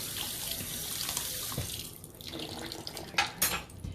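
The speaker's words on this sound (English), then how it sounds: "And I'm just going to rinse this off." Kitchen tap water runs steadily into a sink while something is rinsed under it, a close, continuous hiss with brief splashy bursts toward the end.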